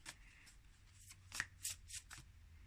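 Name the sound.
shuffling a deck of oracle cards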